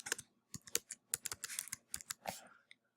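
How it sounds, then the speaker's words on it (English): Typing on a computer keyboard while entering data into Excel, a close, quiet run of quick irregular key clicks with short pauses, no talking. "I'm going to type in classes."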